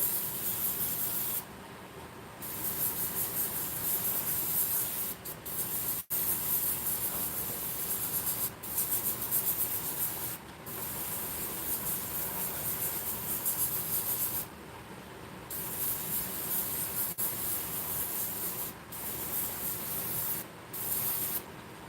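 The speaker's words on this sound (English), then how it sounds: "the alcohol in this will actually help the spray paint dry" Spray paint hisses from an aerosol can in repeated bursts, with short pauses between the sprays.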